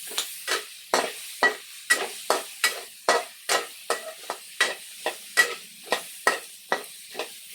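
Tomatoes sautéing in a pan, a steady sizzle broken by a regular rhythm of sharp scraping stirs, about two per second, loud and close with no talking.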